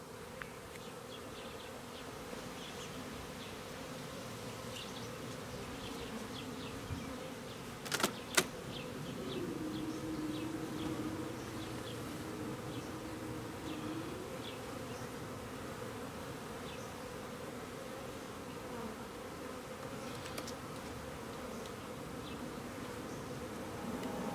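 A steady, close drone of honey bees buzzing around an open hive during a late July inspection goes on throughout, with a couple of brief sharp clicks near the middle; no one speaks.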